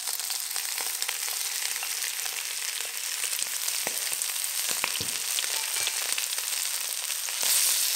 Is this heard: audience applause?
no